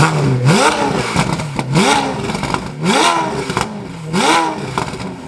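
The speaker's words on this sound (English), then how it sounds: "Yeah, it sounds like a proper Ferrari." A Ferrari F8 Tributo with a full exhaust revving hard on a dyno, four loud rising blips in quick succession, each climbing to a raspy scream before dropping back, with a rumbling idle between and no talking.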